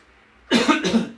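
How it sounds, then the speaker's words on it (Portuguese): A short burst of several harsh coughs in quick succession, close and fairly loud, after a moment of near silence. "Desculpa, estou tossindo muito."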